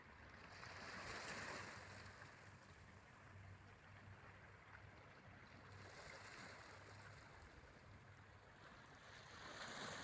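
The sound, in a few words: sea waves lapping at pebbles on a beach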